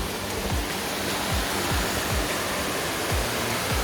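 The Lower Cascades waterfall in Litchfield National Park roars with a steady, broadband rush of falling water, close and continuous, with no voices over it.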